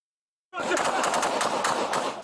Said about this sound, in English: It all ends in gunfire.